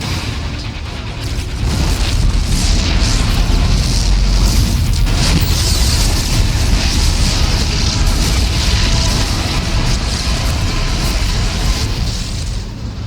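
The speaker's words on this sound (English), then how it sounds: "The explosions have stopped." Explosions rip through a Protoss ship in the StarCraft 2 Heart of the Swarm cinematic: a loud, unbroken roar of booming blasts and rumbling debris lasting well over ten seconds, with no voices.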